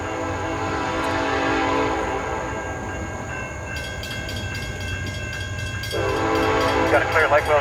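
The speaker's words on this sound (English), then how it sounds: "The K5LLA horn definitely made its impression at midnight in Plant City." A Canadian National freight train passes at midnight in Plant City, sounding a K5LLA air horn with long, loud chords over the rumble and clatter of the rolling cars.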